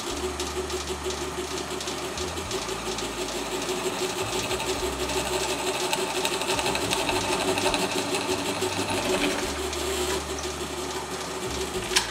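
A drill bores holes in a segmented wooden travel game board set on a backer board, giving a loud, steady whirring drone that runs unbroken throughout, close up.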